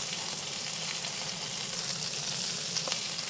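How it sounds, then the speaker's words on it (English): Onions sizzle steadily on a hot Karbon steel griddle, a dense, even crackle heard close up without any talk. "we're gonna start putting these onions back on there pretty evenly"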